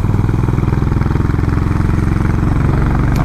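A Honda Highness CB350 motorcycle on chilly mountain roads thumps with a steady, close, loud single-cylinder exhaust beat, an even rhythmic pulse running throughout with no talk.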